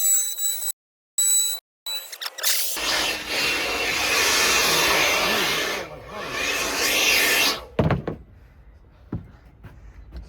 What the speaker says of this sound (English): I start from the bottom on this side. That way, I don't have that issue with the router jumping.